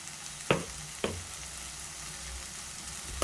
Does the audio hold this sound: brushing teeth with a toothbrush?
no